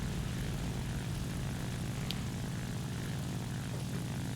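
A Focke-Wulf Fw 190 A-1 fighter in the War Thunder combat game drones with a steady, continuous propeller engine roar, loud and unbroken throughout with no talk.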